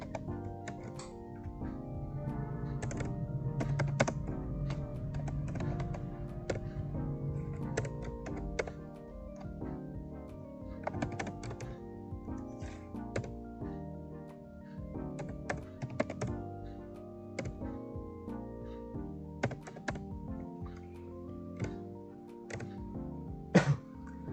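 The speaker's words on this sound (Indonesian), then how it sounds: "sekarang kita sudah mengetik seperti ini ya teman-teman ya" Typing on a computer keyboard in a CMD window, irregular bursts of close, crisp key clicks running throughout, with a few heavier thunks and no talk.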